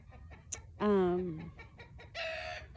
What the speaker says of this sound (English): my chickens are being very noisy